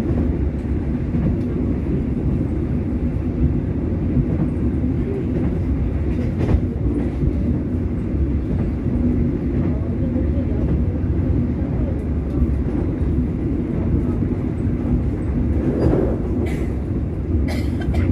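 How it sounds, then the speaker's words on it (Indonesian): Gumarang passenger train running from Jakarta to Semarang, a steady loud interior rumble with rhythmic clickety-clack of the wheels throughout, no talk. "naik kereta api terpanjang di Pulau Jawa ini, kereta api penumpang terpanjang di Pulau Jawa ini, kereta api Gumarang"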